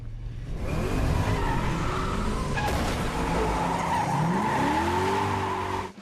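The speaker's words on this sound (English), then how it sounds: "Cruise's actual stunt driving behind the wheel of a cherry 1970 Chevrolet Chevelle SS is superb." A 1970 Chevrolet Chevelle SS in a film car-chase stunt, its tires squealing through skids as the engine revs hard, loud and sustained with no music behind it.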